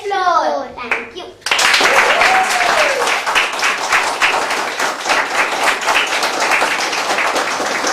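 An audience at a school event bursts into loud, sustained clapping after a child's sung performance, many hands close and dense; a young voice singing briefly precedes the applause.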